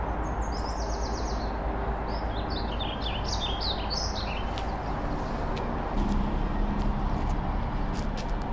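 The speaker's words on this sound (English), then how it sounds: "Hear birds, but I don't see them. So many birds." Several birds chirp and twitter in quick bursts over a steady outdoor background rumble, moderately close, with scattered sharp ticks later on.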